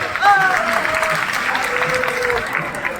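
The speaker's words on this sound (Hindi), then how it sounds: "एक जोरदार ताली" An audience at a Bhojpuri music event bursts into loud, sustained clapping that fills the room, while a voice speaks over it.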